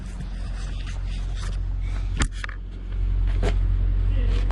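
A turbocharged Nissan Maxima engine starting: a click and a brief crank, then the engine catches and settles into a loud, steady low rumble.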